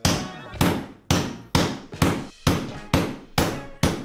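Repeated hammer blows strike a knife from a cheap TV-shop cookware set, eight sharp loud impacts falling in a steady rhythm about every half second, each with a short ringing decay.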